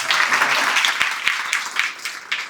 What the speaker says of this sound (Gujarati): એકવાર સ્પેશિયલ મારા માટે તાળીઓ પાડો